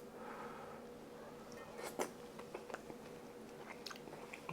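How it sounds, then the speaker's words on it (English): Close, quiet bites and chewing of Zuppa Toscana soup with crunchy bacon, with a few soft crunches and slurpy mouth sounds spaced unevenly over a faint room hum. "A little crunchy from the bacon."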